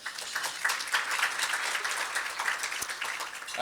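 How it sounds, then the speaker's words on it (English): Audience at a distinguished speaker series lunchtime event gives a round of applause, many hands clapping in a continuous, fairly soft patter from a seated crowd. "So another round of applause for her, please"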